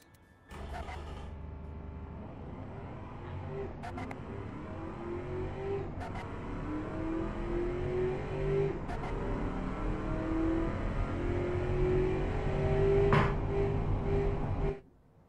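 Simulated 1969 Dodge 330 drag car with an A925 DOHC 426 Hemi, racing a quarter mile in the Automation game: engine revs climb steadily through several gear changes, loud and alone, cutting off abruptly at the end.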